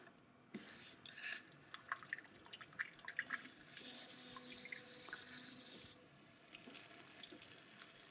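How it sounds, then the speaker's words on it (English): Water spraying steadily from a TOTO Washlet bidet's rear wash nozzle into a toilet, a faint hissing stream with soft drips and splashes, preceded by a couple of light clicks. "We're gonna press the rear wash."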